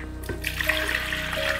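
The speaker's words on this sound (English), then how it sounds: "some water into my blender," Water runs steadily from a tap or jug into a blender jar, a close, splashy gushing stream that starts abruptly and continues with a rising filling tone.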